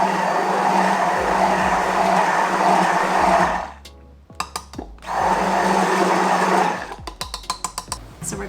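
A blender whirs loudly through soap batter mixed with fragrance oil, running steadily, stopping briefly, then starting again, with short knocks and clicks in the pauses between bursts.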